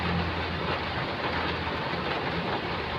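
Heavy morning rain pours down where many motorbikes are parked and people are sheltering, a dense, constant hiss of downpour loud and close throughout.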